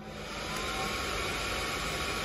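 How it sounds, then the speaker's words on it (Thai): A hair dryer blows hot air onto a model of an automatic cooling system, making a steady, loud, broadband whooshing hum that continues unbroken throughout. "เร่งความร้อนอุณหภูมิด้วยไดร์เป่าผมนะครับ"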